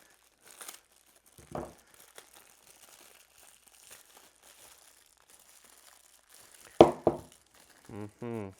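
Espresso machine accessories come out of their packaging with scattered bursts of crinkling and tearing plastic and paper, some brief rustles and a louder crumpling cluster near the end, all close by and without talk.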